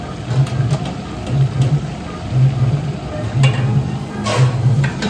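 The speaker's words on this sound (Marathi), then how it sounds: "त्याला परतून घ्यायचं आहे, ढवळून घेत आहेत." About a kilo of onions sautéed in a large pot for a chicken dish cooked for 300–400 guests at a traditional Konkan haldi ceremony: a constant frying hiss with rhythmic scraping stirs repeating roughly every second, close and fairly loud.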